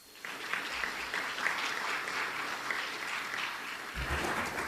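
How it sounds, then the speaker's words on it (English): A conference audience applauds the staff, steady clapping from a room full of people that swells quickly and holds at an even, moderately distant level for several seconds. "please join me in a round of applause for the efforts of the staff here"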